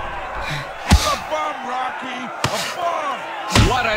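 Punches land in the Rocky Balboa boxing game on PSP, three sharp, heavy thumps spaced about a second or more apart, with crowd noise and a commentator's voice running between the impacts.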